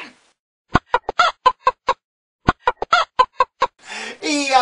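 Sharp, rhythmic chicken clucks come in two quick bursts of about eight notes each, loud and close, followed by a brief squawking cry, heard as the animal sound in a children's farm song.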